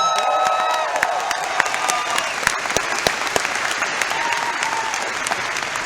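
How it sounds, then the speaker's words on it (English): Audience applause at a Vemma Focus 2015 event with Les Brown: a large crowd claps steadily for several seconds. Scattered cheers and voices ride on top, and it fades slightly toward the end. "Give yourselves a round of applause."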